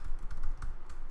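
Quick bursts of keystrokes on a computer keyboard, close and clear, a short uneven run of taps with no voices.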